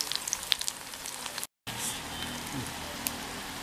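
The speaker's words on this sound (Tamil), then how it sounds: "உப்பு சேர்த்து மிக்ஸ் பண்ணி வச்சிருக்கிற கத்திரிக்காயை எண்ணெயில் போட்டு பொரிச்சு எடுத்துடலாம்" Salted brinjal pieces deep-fry in oil for an eggplant pickle, producing a close, steady bubbling crackle like rain on a surface, briefly cut off for an instant midway, with no one speaking.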